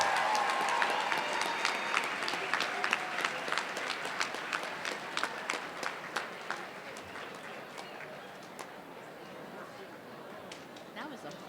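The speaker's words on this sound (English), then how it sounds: "now a round of applause" Audience at a 2019 US Academic Decathlon Superquiz applauds students with fairly quiet, distinct claps that gradually thin out and fade, with murmured chatter running underneath.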